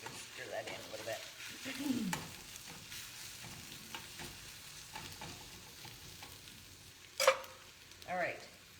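Spinach being stirred into eggs in a frying pan makes soft, quiet scraping and faint sizzling, with a brief voice murmuring in the background.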